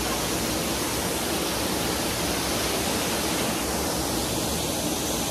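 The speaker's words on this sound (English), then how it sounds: "This is one of our favorite waterfall spots." A waterfall in a bamboo forest on Maui, Hawaii, pours in a loud, steady broadband rush of falling water that holds constant throughout, with no voices over it.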